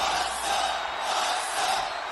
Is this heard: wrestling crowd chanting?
yes